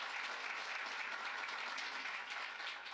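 Sustained applause from an audience at a political history panel, a dense steady wash of many hands clapping, moderately distant and fairly quiet, running evenly throughout without a break.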